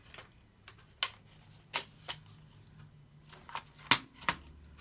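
Cardstock for a double Z fold card being cut, a scattered series of sharp, close snips and ticks with quiet gaps between them, no voices.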